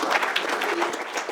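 Audience applause for a panel guest at an industry conference, a dense, steady burst of many hands clapping close and loud for just over a second.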